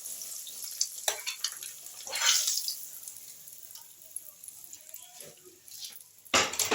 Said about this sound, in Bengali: এই পর্যায়ে আমি ডিমগুলোকে ভেজে ভেজে তুলে নিচ্ছি